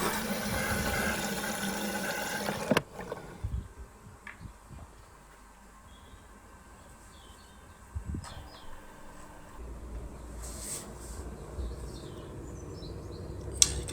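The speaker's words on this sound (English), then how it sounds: "You can hear it's filling up with water" An LG washing machine fills with water through its open detergent drawer, washing salt down. A louder rush at the start drops to a faint trickling flow, with a few soft knocks and gurgles.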